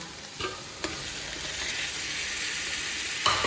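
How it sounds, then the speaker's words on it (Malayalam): Onions, green chili, ginger and garlic sauté in a pan for shrimp biryani, giving a steady close sizzle of frying with a few scraping stirs and light clatters of the utensil against the pan. "ഉള്ളി വാട്ടുന്നുണ്ട്"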